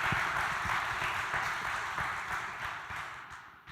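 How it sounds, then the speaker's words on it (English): Audience applause fills a conference panel session at FINNOSUMMIT Bogotá 2017, a steady wash of clapping from many hands that stays loud and dense before slowly tapering off near the end. "First, an applause, of course."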